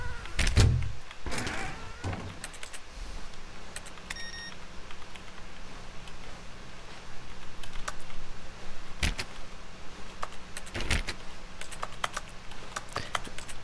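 Computer keyboard typing in sparse, irregular bursts of clicks and taps, a few louder key strikes standing out over a low steady background hum, with no talking.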